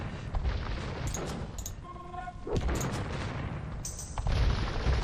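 Bombard cannons and hand cannons fire in an Age of Empires II match, a dense run of booms and gunfire cracks over battle noise, with a commentator talking throughout.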